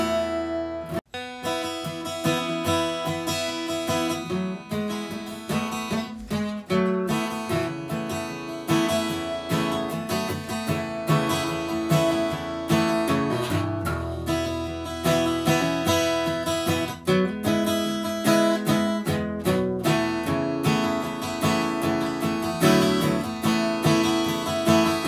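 Acoustic guitar strummed with a flipped partial capo, giving a bright, open, ringing tone; steady full strumming runs continuously and close up without any talking.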